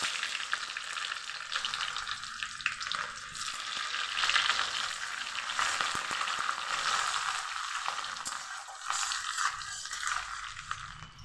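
Onion frying in a pan while fish roe is cooked with potato and aubergine, a steady, dense sizzle with occasional stirring scrapes, continuous and close for about eleven seconds.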